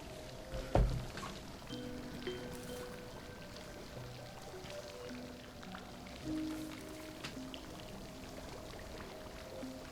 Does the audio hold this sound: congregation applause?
no